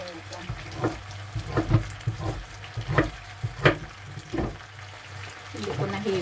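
Root vegetables sautéing in butter and oil for a creamy soup, steady sizzling broken by repeated scraping stir strokes at an irregular rhythm, close by.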